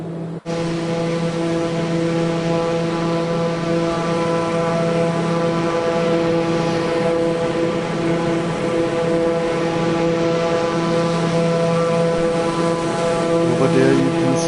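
An aircraft engine idling steadily after start in Microsoft Flight Simulator, a constant loud droning hum with strong tonal layers, unbroken and level throughout.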